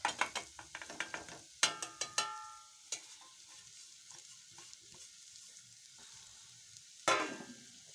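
Bitter gourd stir-fry being stirred in a pan, with a spoon scraping and clinking against the metal in quick irregular strokes over a soft sizzle, heard close and without any voices.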